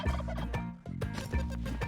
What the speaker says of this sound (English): So both turkeys are here.